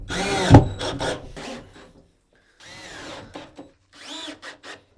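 Screws driven into wooden sauna bench parts during MyoSauna Lux assembly: three separate whirring power-driver bursts, close and fairly loud, with quiet gaps between them.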